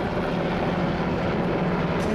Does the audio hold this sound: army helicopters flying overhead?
yes